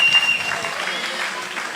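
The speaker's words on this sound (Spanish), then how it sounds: "un aplauso para Diana" Audience applause at a book fair talk in Guatapé, a short, dense burst of clapping from a seated crowd, fairly close and continuous, with a voice briefly over it.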